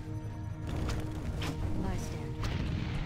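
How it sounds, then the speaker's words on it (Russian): An explosion in a Warcraft 3 Reforged match lands as a few booming impacts amid clanking battle effects, loud and dense, with a commentator speaking over the game audio. "Взрыв."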